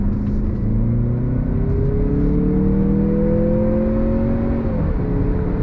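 A 2023 Mazda CX-50 Meridian Edition engine revs steadily under throttle through a long corner, its drone climbing gradually in pitch then dropping sharply near the end, loud and continuous over road noise.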